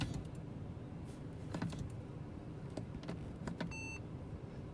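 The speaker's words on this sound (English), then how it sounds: "a little beeping sound. That's how I know it's set." A short electronic beep from a 2018 Mercedes CLA 250 confirming a memory seat preset, a brief tonal chirp near the end over a steady cabin hum with soft button clicks.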